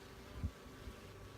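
Honeybees and drones crawl over honeycomb in an open hive during a spring queen inspection, giving a faint, steady buzzing hum with a soft bump partway through.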